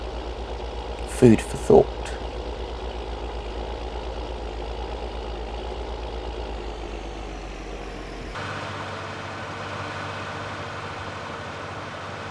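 A New Holland T8 tractor engine idles in Farming Simulator 19 as a steady low drone, with a voice speaking briefly over it near the start; the hum drops to a quieter, thinner tone partway through.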